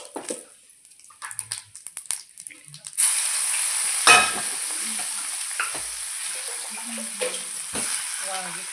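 Cumin seeds hit hot oil with a sudden loud sizzle after a few quiet kitchen clatters, the steady frying hiss continuing for several seconds with small pops and stirring scrapes, no voices.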